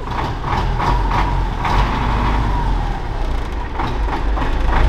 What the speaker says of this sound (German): der Trecker läuft halt immer noch